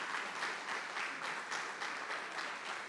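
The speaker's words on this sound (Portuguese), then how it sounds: "Uma salva de palmas a esses irmãos." Church congregation applauding first-time visitors during a communion service, a steady wash of many hands clapping that pulses gently in waves, moderately distant and alone with no talking.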